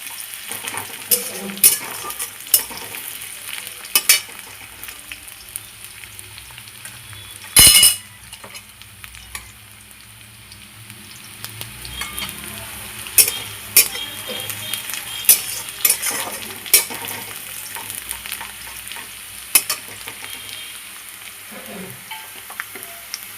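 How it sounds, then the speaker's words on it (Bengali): Chopped onion frying in a pan until reddish brown, a steady close sizzle broken by frequent clinks and scrapes of a stirring utensil against the metal. "পেঁয়াজ কুচিটা দিলে খেতে খুব ভালো লাগে, মানে সেন্টটা ভালো হয়। এটা লাল লাল করে ভেজে নেব।"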